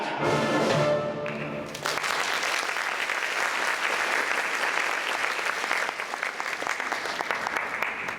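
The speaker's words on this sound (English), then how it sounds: "I trust the moderation of your applause merely means that you are conserving your energies for the final curtain" Theatre audience at a performance of the musical The Mystery of Edwin Drood bursting into applause as a musical number ends; a brief sung, tonal finish gives way to sustained, even clapping throughout.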